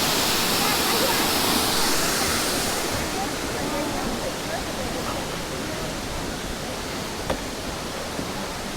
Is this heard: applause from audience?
no